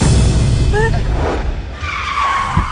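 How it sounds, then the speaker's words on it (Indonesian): A car brakes suddenly and its tires skid with a short squeal, loud and close, over the steady road noise of the moving car. "Maaf, saya nggak sengaja ngerem mendadak"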